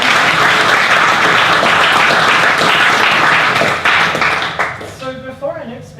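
Applause from the audience at a Brisbane web developer meetup, loud and dense clapping that runs steadily, then thins out and fades in the final second as a voice begins.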